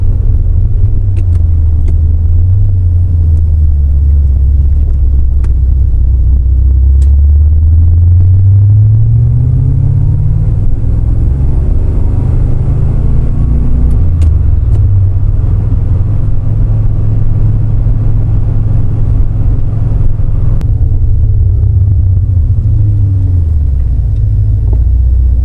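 Engine of a C4 Corvette with Crossfire injection on a road test, a loud low rumble from inside the car that rises and falls through gear changes, sustained throughout.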